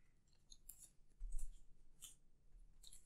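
A card being shuffled into a deck during a tabletop card game, giving a few quick, light papery riffles and slides close by, with no talking.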